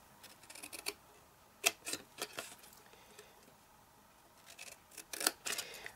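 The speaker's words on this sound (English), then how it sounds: "So this 3¾ piece of cardstock, you need to cut to the second score line" Scissors cutting a piece of cardstock along a score line, with a series of crisp, close snips in irregular bursts over a quiet background.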